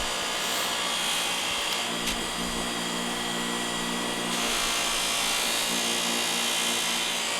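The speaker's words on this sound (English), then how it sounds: "use my buffing wheel here, and this is some cleaning compound. This is not polishing compound." A bench buffing wheel loaded with coarse cleaning compound runs against the rusty steel of an antique Sater Banko drawknife, giving a loud, continuous motor whir with grinding friction close by and no talk.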